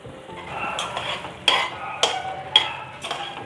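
Paneer and green pea masala gravy simmering in a covered pan that is opened and stirred, with a soft bubbling background and several sharp scraping clinks of a utensil against the pan, no talking.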